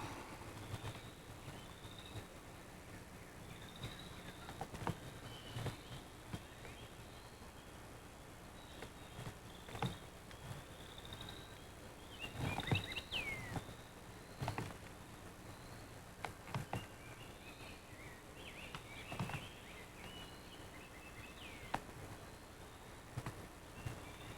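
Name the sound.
birds singing outdoors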